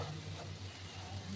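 Stuffed pointed gourds sizzle steadily as they fry in a pan, a faint, close, continuous crackle while they are stirred.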